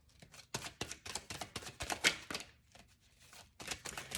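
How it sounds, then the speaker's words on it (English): Tarot cards are shuffled in a steady series of quick papery riffles and slaps, close and fairly soft, with brief pauses between bursts. "I'm going to shuffle some more"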